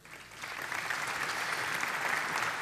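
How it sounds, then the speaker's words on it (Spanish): Audience applause after an agricultural talk on drones, rising quickly from a few claps into sustained, dense clapping that holds steady to the end. "Les agradecemos entonces con este aplauso a Luciana y Andrés Moltoni"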